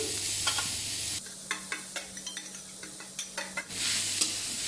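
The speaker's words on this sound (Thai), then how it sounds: "kita ambil ikan yang kita hancurkan tadi kita goreng sedikit bagi yang kering" Mashed fish stir-fried dry in a pan for fried fish spring rolls, heard as a steady sizzle broken by repeated scraping stir strokes, close and clear with no talking.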